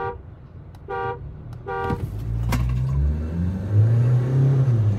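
A Tata Harrier and a Mahindra Scorpio N launch in a drag race: car horns toot three times, then engines rev and build in pitch as they accelerate, growing louder toward the end.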